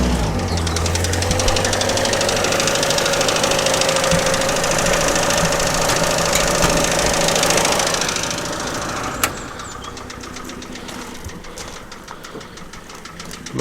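A classic car engine idles with a light tappet clatter from the top end, a steady ticking rattle over a low running drone that drops away sharply near the end, leaving quieter background noise.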